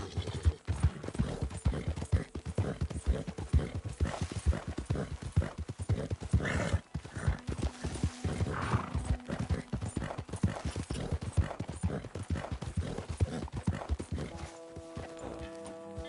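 Horse hooves clip-clop in a steady walking rhythm in the video game Red Dead, close and fairly loud, with a brief whinny partway through before the steps fade.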